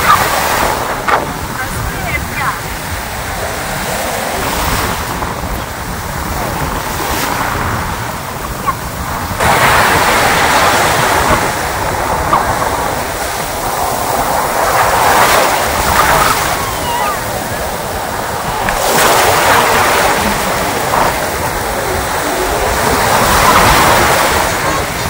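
Sea waves roll in at Dhanushkodi beach, a loud continuous wash of surf with recurring swells and heavy wind buffeting, and voices faintly in the mix.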